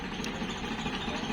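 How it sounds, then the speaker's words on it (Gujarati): A tractor engine runs steadily at an idle-like drone during temple washing, a constant low rumble with no distinct changes across the short moment. "આપણે ટ્રેક્ટર ચાલુ છે"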